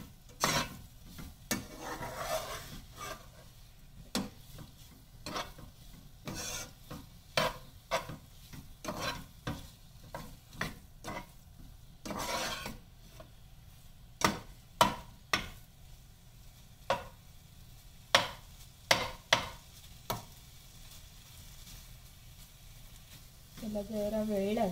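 Kohlrabi cooks in a pan on the stove, with repeated scraping stirs and a soft sizzle. The strokes come in an uneven rhythm, close and moderately loud, over a quiet frying bed.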